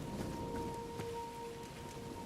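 Steady, soft video-game rain patters continuously, with a faint tonal hum running underneath.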